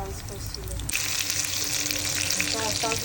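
Beguni, eggplant fritters, fry in hot oil while iftar food is prepared at home, giving a steady, close, dense sizzle that keeps up without pause and grows a little brighter partway through.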